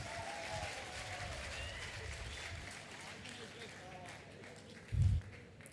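An audience at a conference on sustainable polymers claps moderately. The clapping is mixed with voices and murmuring and gradually fades, and a brief low thump comes near the end.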